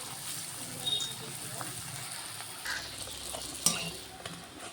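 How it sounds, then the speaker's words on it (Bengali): Triangle puris puffing in a little hot oil with kalo jeera in the dough, a faint, steady sizzle under light stirring and a soft utensil clink, no talking. "এইভাবে বাকিগুলো ভেজে নেব।"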